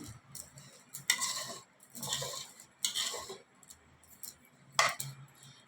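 A spoon mixes khaman stuffing with sugar and chopped green coriander for stuffed chillies, giving several short, distinct bursts of scraping and clinking against a bowl, separated by quiet pauses, close and moderately loud.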